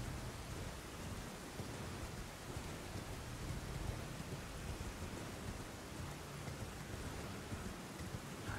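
Steady, dense rain hisses without a break under low, rolling thunder in the Elden Ring video game, a loud and continuous storm with no voices.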